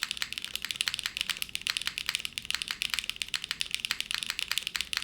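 Continuous rapid keystrokes on an Arc60 mechanical keyboard with HMX Macchiato switches, close and clear in an even, busy rhythm, with no talking.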